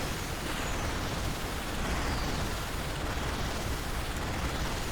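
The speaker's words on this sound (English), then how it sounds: "Where are these explosions coming from?" Dense, continuous rumbling barrage of overlapping explosions from the video game Vampire Survivors, a steady wash of blasts and pops with no pauses, loud and unbroken throughout.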